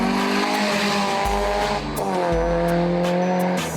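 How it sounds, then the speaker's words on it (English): A turbocharged car with a custom manifold, Turbosmart Pro-Gate wastegate and a modified screamer pipe, revving hard and close, its harsh exhaust note climbing and dropping through several sharp rev changes and shifts, loud and alone. "The Screamer pipe was modified to give the car a unique sound."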